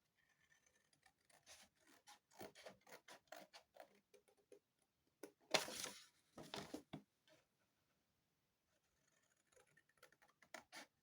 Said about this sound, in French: Alors là je viens découper au ciseau ce triangle